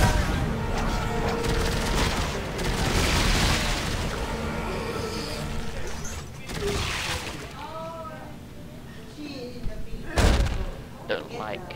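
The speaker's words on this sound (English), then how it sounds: "This line gun is a bit low damage, don't you think? It takes like 2 shots to dismember." Line gun shots and combat blasts from Dead Space 3 go off in repeated bursts under excited voices, with booming impacts and a sharp, loud shot near the end.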